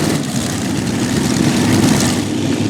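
A modified pulling tractor engine at a tractor pull roars in a loud, steady drone with heavy low rumble. Its right rear engine is running a little rich.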